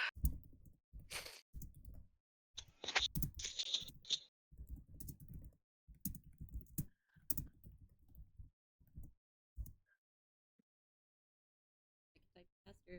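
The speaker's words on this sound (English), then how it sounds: "Typing so fast, I can't take it." Fast typing on a computer keyboard comes in quick bursts of clatter separated by short pauses, close and crisp, with a sigh in between and a faint tapping trailing off near the end.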